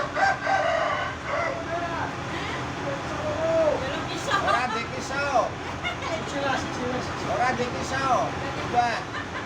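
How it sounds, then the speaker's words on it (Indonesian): A rooster at a gathering in Semarang crows several times in rising and falling calls, heard over constant crowd chatter and nearby talking. "Ayam yang ketiga Pak Bos punya Mister Gendut."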